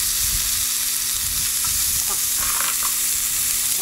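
Lamb pieces fry in a hot, seasoned pan with a loud, continuous sizzle close to the microphone. Soft scraping sounds come as the meat is pushed around, and no one speaks.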